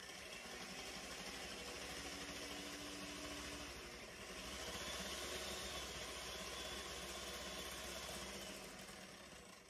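A mixing machine whips cream with a steady, low motor drone and faint whirring, running evenly and fairly quietly throughout.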